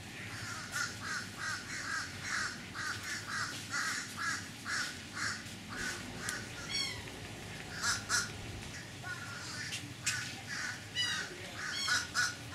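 Rescued storks, pelicans, spoonbills, ducks and ibis in a mesh-roofed free-flight aviary produce repeated harsh, crow-like calls that come in steady bursts throughout, with more distant chirps and a constant low background rumble.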